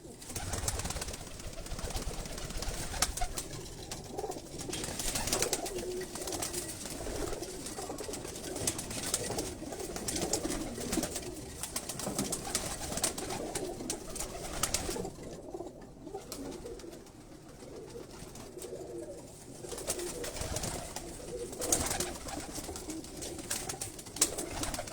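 Pigeons coo on a rooftop loft in Karachi, with soft, repeated throaty calls overlapping across a long stretch, mixed with wing flutters and busy background noise at moderate distance.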